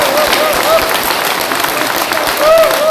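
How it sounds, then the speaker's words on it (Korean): An audience in a church hall at a community education meeting claps together in a steady burst of applause, dense and sustained with a slight swell near the end. "박수 한번."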